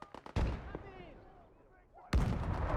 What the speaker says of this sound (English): Tanks a direct shot from a howitzer and then just gets gunned down by a Thompson